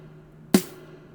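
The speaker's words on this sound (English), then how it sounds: "So all the layers of the snare sound like this" A single layered snare drum hit with a sharp broadband crack and short tonal body, ringing briefly before decaying, heard once alone over a faint low hum.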